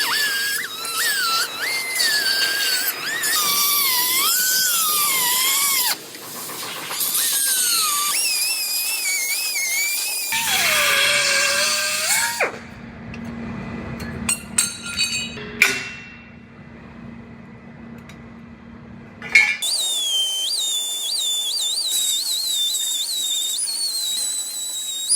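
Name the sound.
cutoff wheel trimming Jeep frame cross member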